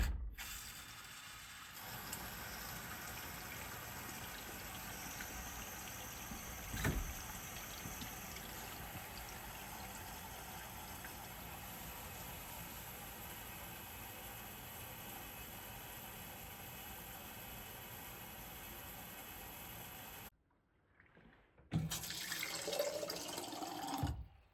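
Water runs steadily from the tap of a hand-dug well into a glass, a continuous hissing spray for about twenty seconds before cutting off, then a brief louder splash of pouring near the end.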